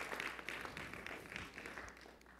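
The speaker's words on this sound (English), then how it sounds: "that was a weak clap" A church congregation gives a faint, thin round of scattered hand clapping during a Sunday sermon, soft and slightly distant, with no voices over it.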